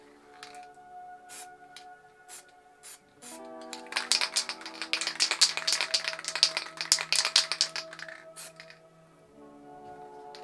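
An MTN Hardcore spray paint can hisses out paint for spray-paint art, a long steady spray building over several seconds amid scattered clicks and rattles, with tonal background sound underneath.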